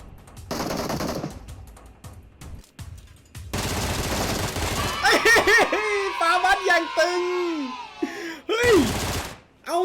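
Shotgun fire and explosions from a battle royale video game burst out in loud, rapid volleys, followed by a player's excited talking and laughter.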